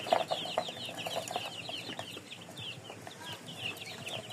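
Chickens brought indoors overnight to shelter from cold wind and a storm, clucking and murmuring close by in a quiet room, with repeated soft calls and an occasional louder cluck.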